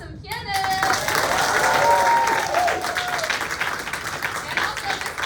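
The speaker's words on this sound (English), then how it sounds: "A couple of people I want you to give a big round of applause to first." Audience applause for the pianist after a college opera performance, a full sustained wash of clapping that swells and then gradually thins, with some voices and a brief tone near the start.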